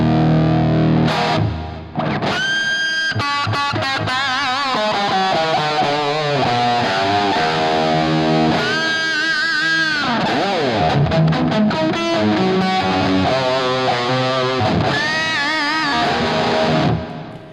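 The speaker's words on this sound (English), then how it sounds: "So it has that unusual distortion, right? It doesn't sound like a Plexi." Electric guitar played through a heavily distorted, Plexi-style amp with an unusual, near-breaking grit: loud riffs and ringing chords with slides and sustained notes, alone with no talk.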